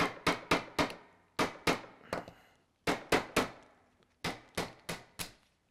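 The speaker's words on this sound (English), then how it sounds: "just pound those pins all the way through" Pins of a guitar body routing template struck with a small screwdriver used as a punch, sharp close taps in quick bursts of three or four with short pauses between.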